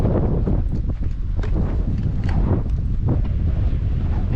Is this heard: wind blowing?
yes